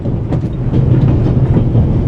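Train carriage rolling on rails in a video game, a steady loud rumble with faint rhythmic clatter throughout, no voices.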